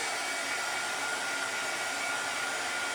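A handheld dryer blows air over a craft piece, a steady close whooshing roar that holds unchanged throughout with no other sound.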